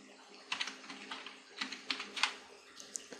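Keystrokes on a computer keyboard while ActionScript 3 code is entered in Flash, a close, quiet run of irregular clicks in short bursts with brief pauses between them.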